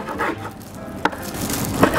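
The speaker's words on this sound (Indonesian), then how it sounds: "Ini saya potong kecil-kecil supaya dia nanti kelihatan bentuk ayamnya." Knife chopping chicken into small pieces on a wooden board, a few distinct sharp chops spaced apart over light rubbing and kitchen background.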